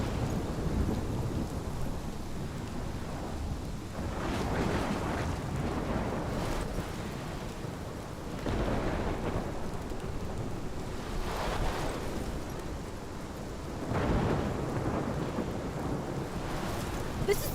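A steady downpour of rain hisses throughout a thunderstorm in Life is Strange Remastered, with several deep rolls of thunder swelling and fading at intervals, continuous and loud without any talk.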